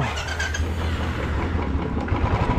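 A motorcycle engine idles steadily nearby after a cold start, a low throbbing rumble with slight fluctuations in speed.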